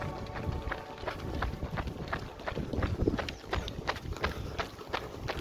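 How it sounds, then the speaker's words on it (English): Many runners' footsteps patter in a dense, steady rhythm during a half marathon, close and overlapping, a continuous shuffle of feet on the road with no talking. "All I heard were the footsteps of the runners around me."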